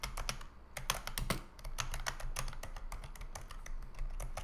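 Rapid, uneven keystrokes clatter on a computer keyboard while Python code is entered, close and clear with short bursts and brief pauses and no talking.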